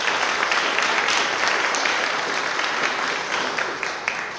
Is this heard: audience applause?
yes